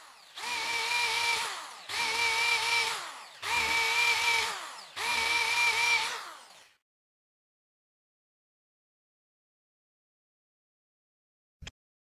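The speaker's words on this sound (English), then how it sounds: "That got a bit hard, so I switched to a 5mm drill." Four bursts of a power drill with a 5mm bit grinding through metal, each about a second long with short pauses, followed by silence and a single sharp click.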